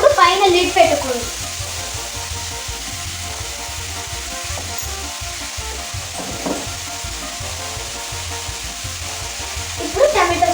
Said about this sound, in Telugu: దీన్ని ఫ్రై చేసేటప్పుడు పైన లిడ్ పెట్టుకోండి.